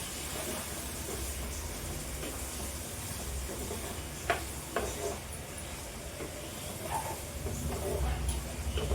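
Snake gourd being stirred and fried in a pan, a steady low sizzle with occasional scraping clicks of the spoon, fairly quiet and continuous.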